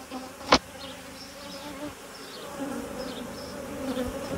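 Honey bees buzzing during a beehive inspection, a steady low drone of many insects with a faint sharp tap near the start.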